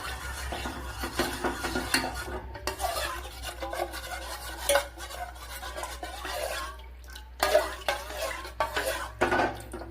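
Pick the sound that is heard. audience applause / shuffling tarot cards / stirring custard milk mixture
stirring custard milk mixture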